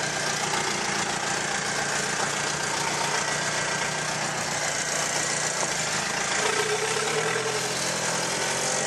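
A 2.5-litre diesel engine with VE injection pump and no glow plugs, running on used engine oil, idles with a steady, rough rumble and rapid knocking clatter, loud and close, constant for several seconds without talking.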